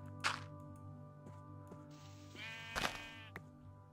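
Two short sheep bleats in Minecraft, one early and one louder near the end, over a steady electronic hum with soft clicks in between.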